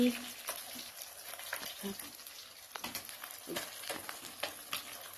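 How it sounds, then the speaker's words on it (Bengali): Fish frying in a pan gives off a steady, fairly quiet sizzle with scattered crackles and pops, and a few faint bits of speech come through underneath it. "মাছ ভাজা হচ্ছে।"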